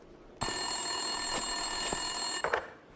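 An office telephone rings in the video game Max Payne 2, a steady bright electronic tone that starts abruptly and holds for a few seconds, then breaks into a short stutter near the end.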